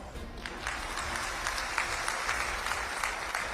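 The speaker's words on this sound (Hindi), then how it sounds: "पुरुषों से मेरा निवेदन है कि ताली बजाओ" Audience applause at an outdoor state anniversary gathering in Himachal Pradesh, steady and moderately loud clapping from a crowd that carries on for several seconds.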